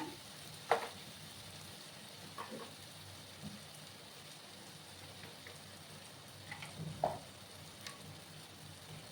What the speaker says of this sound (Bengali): খুব সুন্দর আমার মশলাটা কষে আসছে।